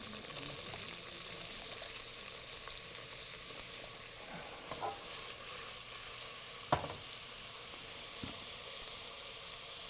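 Chopped onion fries in shimmering oil with a soft, continuous sizzle, faintly marked by a few small pops and ticks.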